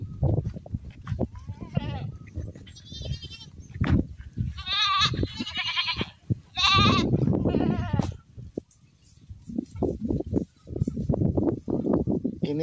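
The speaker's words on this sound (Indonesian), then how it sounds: "Ini kambing" Small Javanese dwarf goats (kambing Jawa) bleat repeatedly near a house in a forest setting, several wavering cries rising over a voice and background rustle.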